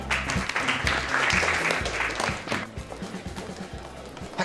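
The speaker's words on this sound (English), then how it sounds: "Round of applause, everyone" A group claps in a round of applause indoors, a dense patter of hands that stays strong and then thins out gradually as it fades.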